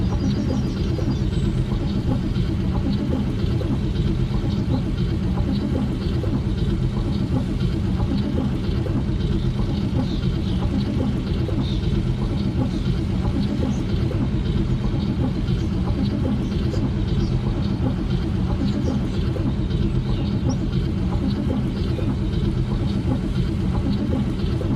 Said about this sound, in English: cranking this car makes quite the racket